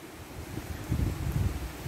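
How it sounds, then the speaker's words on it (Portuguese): Strong wind gusting ahead of a storm, a steady low rumbling roar with buffeting against the microphone that swells slightly midway, with no voices. "Se preparando temporal, gente. Tá um vento."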